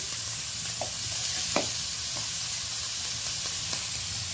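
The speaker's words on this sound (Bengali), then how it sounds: "এবার হালকা লালচে করে বেশ ভালো করে এটা ভেজে নিতে হবে" Dried fish curry with turmeric frying in a pan gives a steady, close sizzle and hiss, broken by a few soft clinks of stirring.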